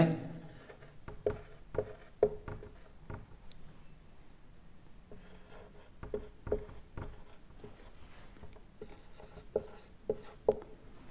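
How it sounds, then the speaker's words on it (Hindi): A pen scratches across paper in short bursts of handwriting, separated by quieter pauses, close and fairly soft. "अब मैं उनको लिख कर के बता रहा हूँ"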